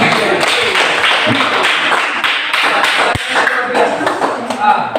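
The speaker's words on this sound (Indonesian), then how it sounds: "Terima kasih, beri tepuk tangan." A class of students claps in a classroom, a busy, continuous patter of many hands with individual sharper claps, close and fairly loud throughout, with voices mixed in.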